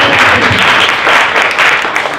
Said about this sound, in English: Let's give Sherry a round of applause